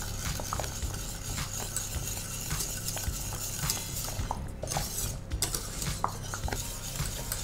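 Thickening vegan pastel de nata custard is stirred in a pot, giving a continuous close scraping and rhythmic clicking of the utensil against the metal, with a low steady hum underneath.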